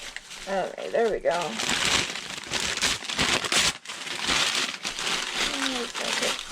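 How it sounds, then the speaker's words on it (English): Packing paper crumpled and crinkled while wrapping an item for shipping: dense, rustling crackles in close bursts, loud and continuous, with a voice briefly over the start. "I'm just going to put some paper on the edges of it to keep it kind of secure."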